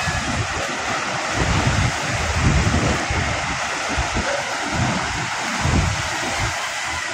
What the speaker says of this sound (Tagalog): Grabing alon mga kapising